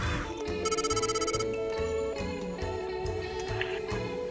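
Telephone ringing on a call placed to an office, a repeated electronic ring tone in short bursts, fairly faint and heard alone without talk.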